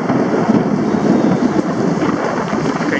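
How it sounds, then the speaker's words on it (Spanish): A heavy rain downpour lashes an outdoor garden area where desert rose plants are being grafted. Thunder rumbles underneath a dense, continuous hiss of rain, and wind buffets the microphone. "Está fuerte el aguacero."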